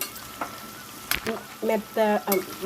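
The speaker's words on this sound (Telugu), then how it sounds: "ఈ విధంగా ఆయిల్లో కొంచెం గోల్డెన్ బ్రౌన్ కలర్ వచ్చే వరకు వేయించుకున్నామండి" Chicken pieces for a pickle fry in hot oil until golden brown, a soft steady sizzle with stirring and scraping in the pan, and a few louder clattering bursts near the end.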